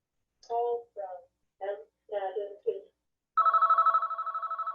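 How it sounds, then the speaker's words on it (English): A telephone rings with a rapid electronic trill in two bursts after a few short spoken phrases, close and clear at the end. "I'm waiting for the phone to stop"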